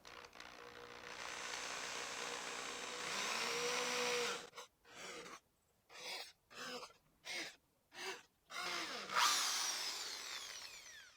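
A power drill fitted with a 1.5 mm bit bores holes about 1 cm deep in wood for a woodworking gift project: one long whining run, then a series of about six short, evenly spaced bursts, close and clear.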